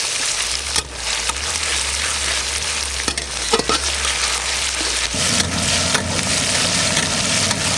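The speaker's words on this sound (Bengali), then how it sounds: "পেঁয়াজ আদা রসুন সুন্দর কষানো হয়ে গিয়েছে" Onion, ginger and garlic paste fries in a pan for a mutton dish, a loud, steady, close sizzle with a few brief clinks of stirring and no speech.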